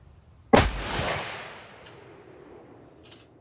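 A single loud gunshot from a .458 SOCOM rifle at an outdoor range, a sharp blast with a long rolling decay, followed by a faint distant pop near the end.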